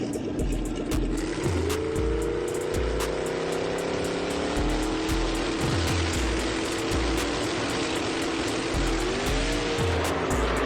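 Roaring drag race cars, a Mustang and a Cadillac, rev and accelerate hard, pitch climbing through gears, loud and continuous with a squealing edge.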